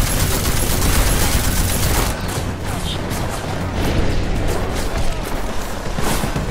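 Sustained, loud gunfire and blasts fill Deus Ex: Mankind Divided combat, a dense continuous roar of shots with sharp peaks, and a player's voice faintly underneath.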